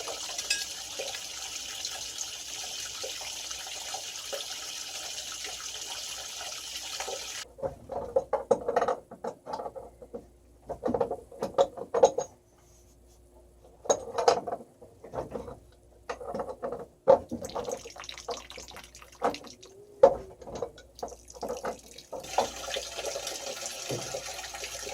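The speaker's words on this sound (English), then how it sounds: "Got more air into the system, more water comes out." Water sputtering out of a boiler heating system as air is bled from it, heard as faint, irregular spurts and trickling patter with quiet gaps, over a steady background hiss.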